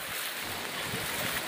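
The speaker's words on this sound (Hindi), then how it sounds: "पानी का बहाव बहुत तेज है और बहुत तेज़ी से मोहल्ले की तरफ घुसता आ रहा है" Floodwater from an overflowing river crossing a road and pouring into a residential neighbourhood in Motihari, India: a continuous, loud broadband rush of moving water with some wind buffeting, no voices.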